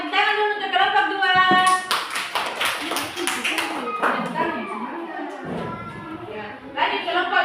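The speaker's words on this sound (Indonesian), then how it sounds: "Tepuk tangan dulu untuk kelompok 2." A school class claps for a student group in a short, loud burst that comes after and between stretches of nearby talking voices.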